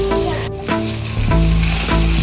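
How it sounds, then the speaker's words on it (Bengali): Boiled potatoes dropped into a hot, frying cashew-based spice paste for a vegetable biryani, giving a loud, steady sizzle that swells as the potatoes hit the pan and continues close up, with no talking. "এবার আমি সেদ্ধ করা আলুগুলো দিয়ে দিচ্ছি এর মধ্যে।"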